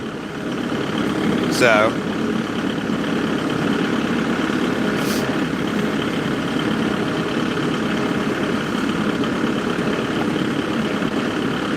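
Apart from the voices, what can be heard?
tractor engine idling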